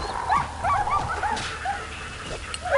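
Dog in the Prison Architect video game, with a few short yips and whimpers standing out over a busy, noisy in-game background.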